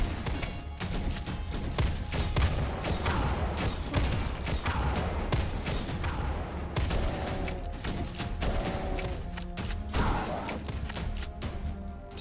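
A gun in a dark, industrial first-person video game fires paired shots, with repeated sharp blasts and thuds layered over a dense, constant background of game music and effects.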